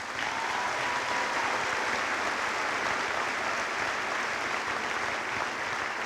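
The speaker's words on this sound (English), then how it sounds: "Please give them a round of applause." A graduation crowd gives a sustained round of applause for National Honor Society students, a loud, even wash of many hands clapping throughout.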